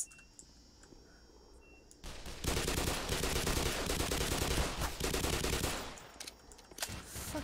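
Automated turrets fire in a sustained loud burst of rapid gunfire lasting several seconds in the video game Black Mesa, after a quieter opening stretch.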